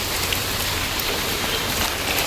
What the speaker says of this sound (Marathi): किती पाऊस आहे. भरपूर पाऊस आहे.